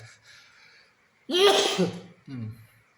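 A single loud, close human sneeze bursts out after a short quiet breath, followed by a brief second vocal exhale, with no talking over it.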